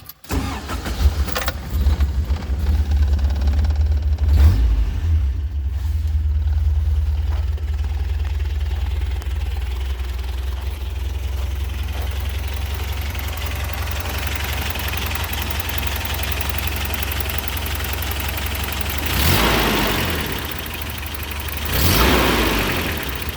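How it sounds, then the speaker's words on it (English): A 1982 Toyota 4x4 pickup truck engine cranks, catches and settles into a steady idle that runs for the rest of the clip, close and loud, with a couple of brief revs near the end. "I'll start it up for you real quick."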